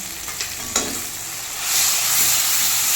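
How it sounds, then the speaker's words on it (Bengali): Turmeric, cumin and chili powder frying in oil in a pan for a Bengali snakehead fish curry, with a few stirring scrapes followed by a steady, rising close sizzle. "দিয়ে দেবো হলুদ গুঁড়ো, দেবো একটু জিরের গুঁড়ো, লঙ্কার গুঁড়ো দিয়ে এবার ভালো করে কষিয়ে নেবো"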